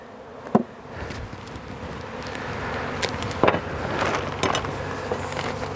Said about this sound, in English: There's half a cup of bees.